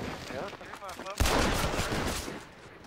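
Gunfire erupts in a video game shootout, a sudden loud volley of rapid shots that keeps going after a short stretch of talking.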